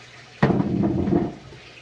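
A sudden gush of water pumped into an aquarium tank rushes and splashes for about a second, then quickly fades, close by with no voices.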